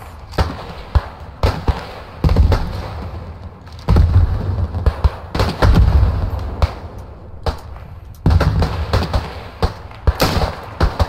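A German sniper rifle in the WW1 shooter Beyond The Wire fires repeatedly, with loud, close, booming cracks and heavy thumps arriving irregularly in clusters over rumbling battlefield ambience.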